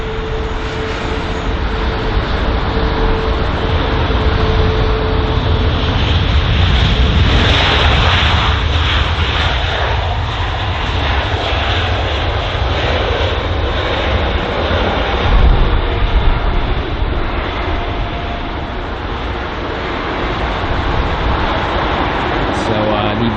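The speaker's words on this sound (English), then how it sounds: "next up we have this British Airways A320-200 arriving from Naples on its 2 hour and 21 minute long flight" A British Airways A320-200 airliner arriving at Heathrow from Naples, its loud, steady jet roar sustained throughout, with a voice talking over it.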